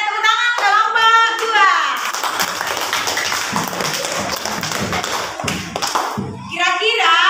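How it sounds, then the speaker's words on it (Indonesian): A classroom of students claps for a student group, with dense close hand clapping and scattered children's voices, framed by a teacher talking before and after. "tepuk tangan kelompok"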